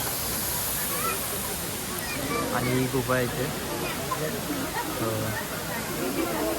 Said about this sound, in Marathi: हे बघा मित्रांनो इथे असा धबधबा आहे हा पूर्ण